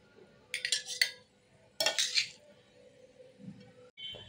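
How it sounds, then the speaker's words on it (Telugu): Tomato chutney spooned into a mixer grinder jar produces two short bursts of metallic clinks and scrapes of a spoon against the jar, with quiet pauses between. "ఇది గ్రైండర్ గిన్నెలో వేసేసుకుందాం."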